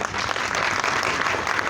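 An audience at an event claps continuously, dense, loud and even applause filling the whole moment without a break.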